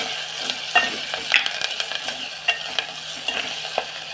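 A spice paste fries in a pan, giving a steady sizzle broken by frequent stirring scrapes and light clicks of the spoon against the metal, moderately close, with no one talking.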